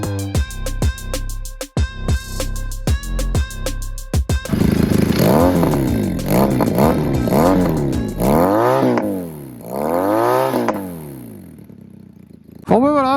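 A Benelli 502C Cruiser motorcycle engine with basic tuning and no electronic mapping: first sharp rhythmic revving blips, then repeated long rises and falls of loud acceleration and deceleration, close and prominent.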